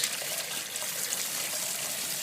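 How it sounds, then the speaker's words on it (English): Hot water pours steadily from the end of a copper pipe during beer brewing, a dense, constant rushing hiss, loud and close, with no voices. "you're going to hopefully see how hot the water is coming out this other end"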